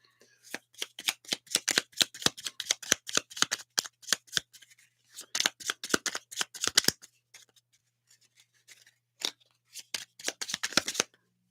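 A deck of happiness cards is shuffled in quick riffling bursts, crisp close flicks arriving in rapid clusters with short pauses between them.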